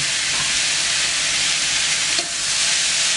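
Diced tomato hits a hot plancha slicked with olive oil, setting off a loud, steady sizzle and crackle of frying, close and alone throughout.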